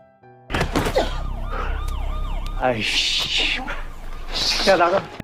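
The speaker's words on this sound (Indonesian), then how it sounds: "tiba-tiba terdengar suara sirine polisi" A police siren wails in a rising and falling pattern beneath dramatic drama-series dialogue, a heavy thump and low rumble, loud and close.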